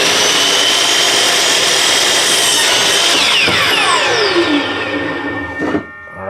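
A power saw slicing through a wooden fence picket, loud and close, the blade whine dropping in pitch as it bites, then spinning down and stopping with a final clunk.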